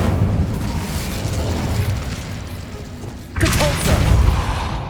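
Incendio fire spell cast in Hogwarts Legacy, a steady roaring rumble that swells into a louder, brighter burst of fiery blast partway through.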